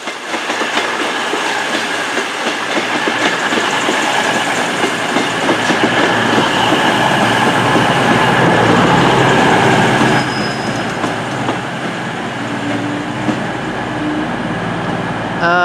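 A Great Western Railway train pulls into Exeter St David's station, its loud rolling rumble steady throughout, with clickety-clack wheel beats and brief squeals of wheels on the rails close by.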